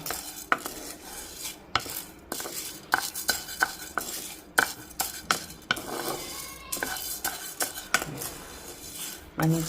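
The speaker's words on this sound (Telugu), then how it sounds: "మంచిగా అన్ని పప్పులు కూడా వే వేగేలా కలుపుతూ ఉంటేనే అవి చక్కగా వేగుతాయి" Lentils roast in a dry pan while a metal spoon stirs and scrapes steadily, giving clattering taps against the pan over a faint sizzle, close by with no speech.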